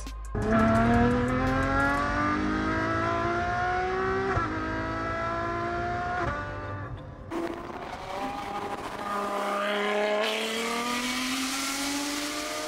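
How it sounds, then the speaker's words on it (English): A Ferrari sports car's engine revs hard as the gas pedal is pushed, its loud, close note climbing through several swelling rises and falls with a brief break midway, with no talking. "all you need to do is to push the gas pedal like this"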